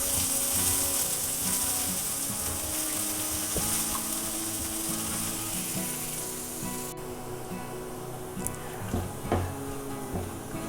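Chopped onion and garlic fry in hot oil after panch phoron for a Bengali butter dal, giving a steady, loud, close sizzle with light stirring clicks and no talking.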